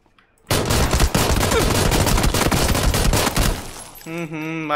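Rapid bursts of video game gunfire from PUBG (PlayerUnknown's Battlegrounds), loud and dense after a short silent start, then stopping abruptly as a voice speaks.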